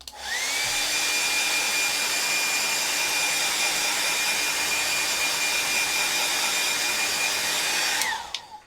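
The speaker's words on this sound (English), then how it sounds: "I'm going to get my hairdryer out and whoosh this" A hair dryer starts up, whirs with a steady airy roar and a constant whine for several seconds, then winds down and stops.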